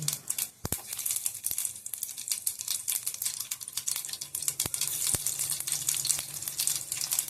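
Garlic hitting hot oil in a pan for a raw-mango kadhi, a steady bright sizzle with sharp crackling pops scattered throughout, close and continuous with no voices.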